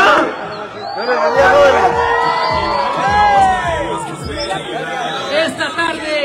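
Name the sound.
crowd cheering and shouting at a political rally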